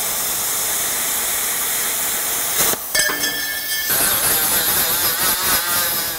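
Plasma cutter slicing through steel plate during a structural rust repair, a loud steady hiss with a sharp change partway through as the cut starts, ongoing harsh roar to the end, no talk.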